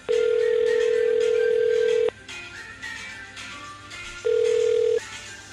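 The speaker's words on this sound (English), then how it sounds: "I'm going to dial his phone number right now" Telephone dialing a phone number: a loud steady tone holds for about two seconds, a pause follows with faint clicks, then the tone returns briefly.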